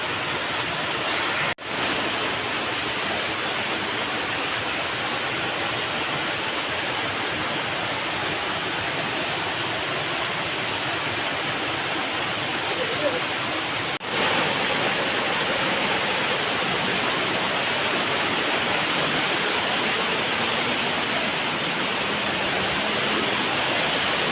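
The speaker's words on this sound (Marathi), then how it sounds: "हे वाटतं मेन पाकावाडीचा धबधबा" The Insuli Pagavadi waterfall near Sawantwadi rushes in a continuous, loud broadband roar of falling water, unbroken and steady throughout with no voices.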